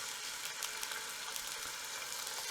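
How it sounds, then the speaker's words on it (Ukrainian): Veal medallions sizzle steadily in a well-heated frying pan, a dense, even crackle close up with no talking. "Шматочки м'яса викладаємо на добре розпечену сковорідку, щоб вони почали смажитися, одразу шкварчати."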